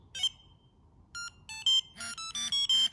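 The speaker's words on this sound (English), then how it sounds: "So hold the F button again, 3 beeps" A Light Pro V2 pager remote emits a short series of electronic beeps and chirps, close by and clear, in uneven bursts with quiet gaps between.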